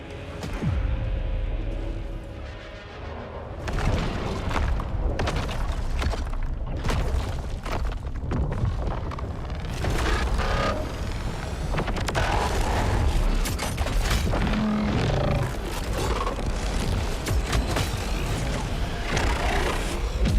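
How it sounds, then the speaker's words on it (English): A main weapon fires repeatedly in a video game, with sharp booming shots and impacts throughout a steady, loud stretch of combat noise. "hold R2 to fire your main weapon at the target"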